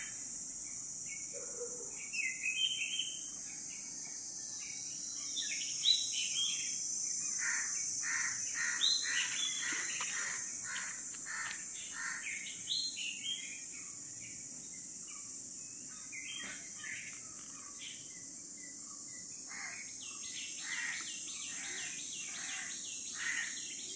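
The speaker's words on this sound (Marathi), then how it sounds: "सकाळचे परी पक्षी कसे उठून आवाज काढतात बघा." Morning birds sing and chirp among coconut and other trees, with many short calls scattered across the whole stretch over a steady high insect-like drone, moderately distant and no one speaking.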